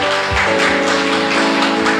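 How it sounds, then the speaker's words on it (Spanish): A church congregation in Concepción Quesaltepeque applauds with dense, steady clapping that fills the whole stretch, while sustained musical tones ring underneath. "este aplauso es para todos ustedes"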